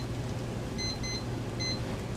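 Three short electronic beeps from a kitchen timer set for two minutes while chicken cooks for pad Thai, each a thin high tone, spaced over about a second against a steady low kitchen hum.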